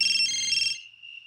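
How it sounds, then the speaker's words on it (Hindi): A mobile phone rings with an incoming call, a bright electronic ringtone tone sounding loud and close for about a second before cutting off, leaving a fading tail. "एक मिनट, मम्मा का है फोन।"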